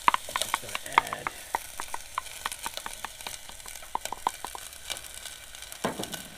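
Vegetables are stirred in a hot pot of oil for chicken soup with Asian noodles, a constant close sizzle broken by quick scraping and clicking from the stirring utensil.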